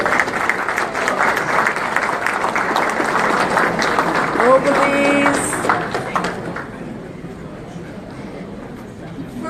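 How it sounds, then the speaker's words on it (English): Applause from a seated audience at a UN Oceans Equator Prize ceremony, a dense steady clapping that fills most of the clip, tapering off in the last few seconds. "Please, a round of applause for our..."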